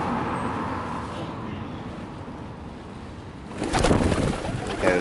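Pigeons coo softly in an outdoor spot, the low calls fairly close amid ambient noise, followed near the end by a louder burst of passing traffic or rustling.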